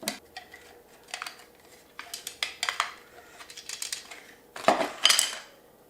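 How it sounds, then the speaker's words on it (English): Plastic measuring spoons from a sugar gadget rattle and click as they are handled, making a string of light, sharp taps close by. "That little handle comes out, and this portion, this 1/2 teaspoon, comes out as well."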